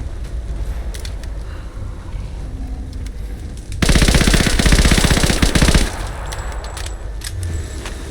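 A submachine gun in Rise of the Tomb Raider fires a loud, rapid burst lasting about two seconds, standing out over a quieter background of game ambience.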